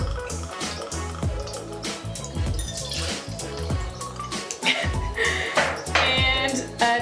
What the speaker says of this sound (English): We're just going to add 2 ounces of vanilla vodka.